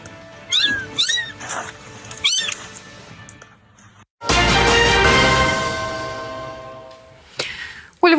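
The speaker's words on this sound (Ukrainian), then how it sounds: "почули нявчання з підвалу зруйнованої будівлі" Kittens trapped in the basement of a collapsed building give several high, wavering meows close by, followed by a loud burst of broadband noise and another faint cry at the end.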